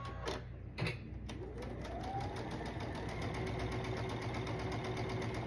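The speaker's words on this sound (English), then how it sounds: "I'm going to stitch from corner to corner" A sewing machine stitches quilt fabric from corner to corner with a rapid, even mechanical whir and needle rattle, steady and close after a few brief knocks at the start.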